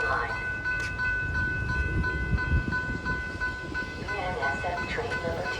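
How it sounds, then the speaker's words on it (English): An inbound Metra train pushed by locomotive 204 rumbles at Downers Grove station while a steady tonal hum holds beneath the noise, with a faint horn-like tone and platform sounds mixed in. "our final train at Downers Grove would be an inbound Metra with Metra 204 pushing"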